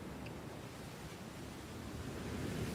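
Steady, broadband wash of water in the video game Jusant, like surf or rushing current, holding at an even moderate level throughout with no speech.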